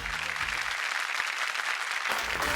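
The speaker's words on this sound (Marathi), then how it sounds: "एकदा जोरदार टाळ्या होऊन जाऊ दे." An audience at a Marathi women's game show bursts into hearty applause, a dense steady patter of many hands clapping at moderate distance, with some faint background music underneath.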